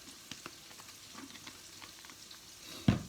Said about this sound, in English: we're just going to give that a bit of a stir